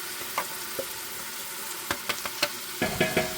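Onions cooking in half a stick of butter as the start of a gnocchi soup, a steady soft sizzle with a few light clinks and stirring scrapes toward the end, and no voices.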